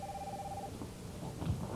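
A telephone rings briefly in an office, a single electronic ring tone that cuts off partway, faint and mid-distance under room ambience.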